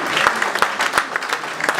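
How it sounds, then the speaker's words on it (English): Audience applause at a Nextier Power Dialogue conference, a dense, steady patter of many hands clapping close by, with sharper individual claps standing out throughout. "A round of applause for Professor Black"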